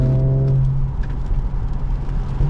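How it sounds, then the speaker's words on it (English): Exhaust note of a 2021 Audi S5 3.0T Cabriolet, a loud close low engine drone that opens with a steady humming tone and then turns into a rougher, fluttering rumble. "We immediately get a louder exhaust note, a little more sound"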